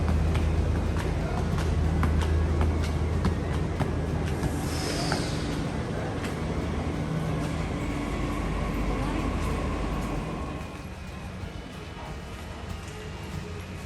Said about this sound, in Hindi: मेट्रो का बैक साउंड बहुत ज़्यादा है